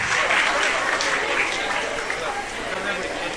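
Loud sustained applause from an audience at a school annual prize distribution ceremony, dense clapping filling the room with crowd chatter mixed in and fading slightly toward the end.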